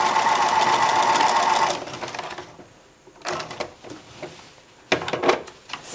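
A sewing machine stitches a purse inset in a fast, loud mechanical run that stops partway through. Scattered clicks and knocks of handling the fabric and machine follow.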